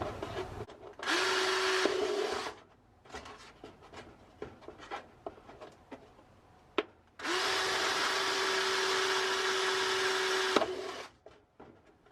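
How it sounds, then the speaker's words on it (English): A power drill whines in two sustained bursts, the second longer, separated by quiet stretches of light tapping and handling noises. "I just prefer using a drill and being really careful with the drill."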